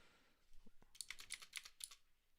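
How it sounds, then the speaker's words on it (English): Computer keyboard keys clatter in a quick run of close, crisp taps after a soft thump, faint overall and with no talk. "you guys can constantly hear the keys typing"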